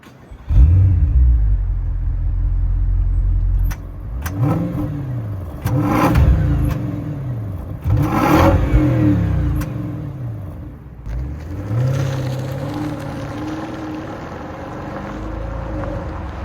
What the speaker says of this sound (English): All right, driving the Continental GTC V8.